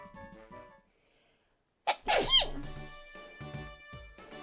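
After a brief hush, one sharp sneeze bursts out close and loud, followed by background game music and faint voices continuing underneath.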